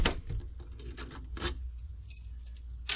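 Metal keys for the key bypass on a fingerprint door lock jingle and click up close, in a few short separate bursts with quiet gaps between them.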